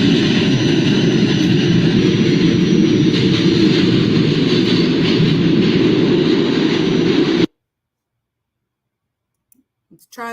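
A packed New York subway train rumbles along with loud, steady rail clatter and wheel noise up close, then the sound cuts to near silence before faint rustles return at the end.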